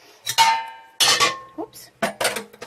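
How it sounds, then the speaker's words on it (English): A metal pot being set down during goat feta cheesemaking, several close, bright metallic clanks and clinks in quick succession, with no talking. "I'm going to leave the pot right here."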